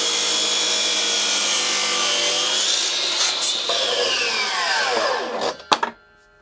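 A Makita 40V 305mm mitre saw cuts hardwood: a loud whining motor with a rising-then-falling tone under blade load, ending in a few sharp clunks as the cut finishes and the blade spins down.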